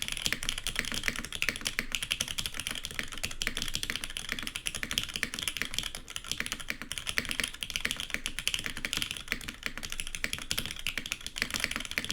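Steady, fast typing on a Pickle 930 TKL mechanical keyboard, a continuous run of close, crisp key clacks with no voices over it.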